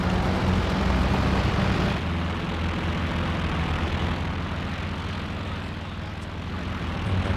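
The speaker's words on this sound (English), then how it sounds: "Looks like the planes target the other units, which is fortunate." Aircraft drone overhead in Company of Heroes 2 combat, a loud, steady engine roar over rumbling battle noise, easing slightly after the first couple of seconds and swelling again at the end.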